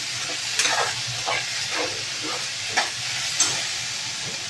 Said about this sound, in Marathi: खिचडी परतून घेते छान तुपामध्ये